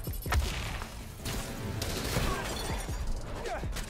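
Rapid gunfire and crashing impacts in Spider-Man: Miles Morales on PS5, a dense busy stream of bursts and thuds running the whole time amid game music and effects.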